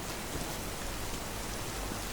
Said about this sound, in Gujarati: શહેરના પૂર્વ અને પશ્ચિમ વિસ્તારમાં વહેલી સવારથી જ વરસાદ વરસી રહ્યો છે